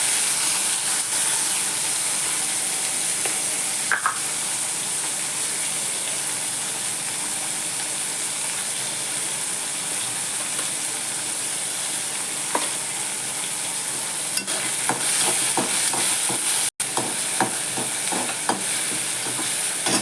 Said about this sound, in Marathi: पीस टाकून द्यायचं आहे आता चांगलं परतू द्यायचं